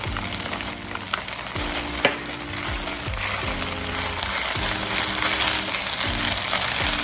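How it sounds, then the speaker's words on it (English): Peas go into shrimp, pork or chicken fried rice in a hot pan, giving a loud, steady sizzle that runs throughout under a repeating low tonal pattern. "We're going in with our peas."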